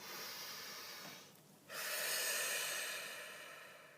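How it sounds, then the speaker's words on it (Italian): A single deep breath drawn in and let out during a guided relaxation moment, heard close and soft with a brief pause in the middle and no talk. "facciamo un bel respiro profondo"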